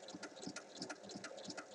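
Overlocker serging the seams of a rectangular cushion cover, a faint, fast rhythmic mechanical chatter running steadily throughout.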